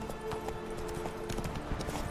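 Roach, Geralt's horse in The Witcher 3, trotting with a steady, fairly quiet clip-clop of hooves over a low ambient background, with no talking.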